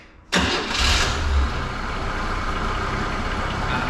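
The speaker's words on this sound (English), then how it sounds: "So we'll fire it up and you'll hear this thing, no throttle" A Holden HG Premier car engine cranks and catches abruptly, surging briefly before settling into a steady, close idle that continues to the end.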